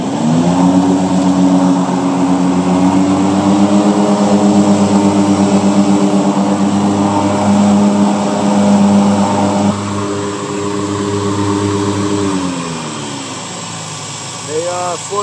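Walker Super Bee 60-inch riding mower engine running at raised throttle, a loud steady drone that shifts pitch and eases off near the end, with people talking over it.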